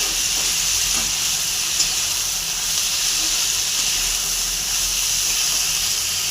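Masala sizzles with a constant, loud hiss as salt is added and it is stirred in a pan, with no clear breaks.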